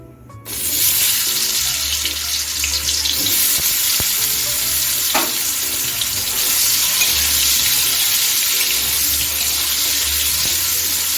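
Potato pieces frying in hot mustard oil in a wok make a loud, dense, continuous sizzle that bursts in within the first second and keeps crackling steadily to the end, with no voices.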